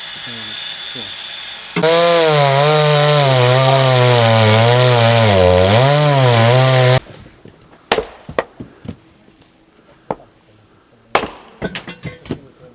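A chainsaw cuts firewood at a border guard post, a loud close whine wavering in pitch for about five seconds before cutting off, followed by scattered sharp knocks and clatter of wood.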